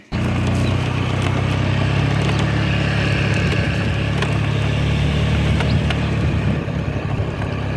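A tractor pulls a disc harrow across a farm field where pumpkins were grown. Its loud, steady engine drones close by with rough low rumble and wind buffeting throughout, and no voices are heard.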